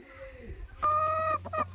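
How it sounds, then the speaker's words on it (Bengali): Chickens in a coop give a short burst of clucking, a couple of close, clear calls against quiet rural surroundings. "এই দেখো মুরগি ঘর, এই যে কত মুরগি"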